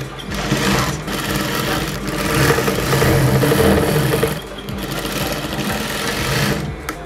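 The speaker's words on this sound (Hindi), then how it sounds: "अभी हम इसका साइड का सिलाई लगा लेंगे" Sewing machine stitching the side seam of a cowl neck top: continuous loud, fast mechanical whirring with a steady rapid needle rhythm, briefly easing and then resuming, close up.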